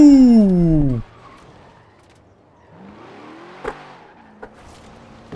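A BMW M5 drifting in the Forza Horizon 4 racing game: a loud engine rev slides downward in pitch for about a second, then cuts off, leaving faint tire and mechanical noises and a few sharp clicks.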